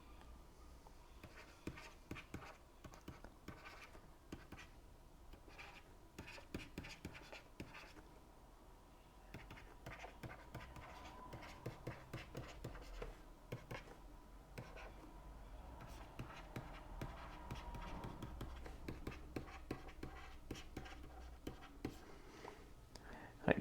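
A pen or marker scratches out a y-momentum equation during a fluid mechanics lecture on boundary layers, giving soft, rapid, faint strokes that continue throughout with a quiet room hum behind.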